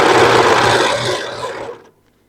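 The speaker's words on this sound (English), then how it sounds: "And I'm going to sew this." A sewing machine runs steadily while stitching a dress collar, giving a dense, close mechanical whir that lasts almost two seconds and then stops abruptly.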